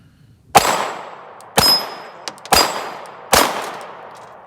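Handgun shots fired at target practice from roughly 5 to 8 yards: four sharp, loud reports about a second apart, each with a ringing clang and a short decay.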